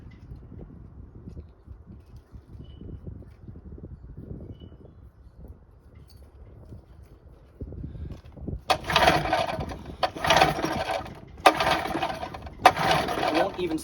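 A 1984 Johnson 25 HP outboard motor cranking without firing, several loud mechanical cranking bursts in the second half, preceded by low background rumble and handling noise.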